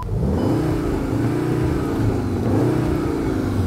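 A Cupra Leon engine revving with an eight-cylinder sound, giving a deep bass rumble that stays loud and continuous, close by, with a slight swell partway through.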